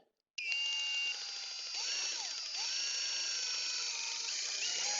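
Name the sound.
drill driving a rope lift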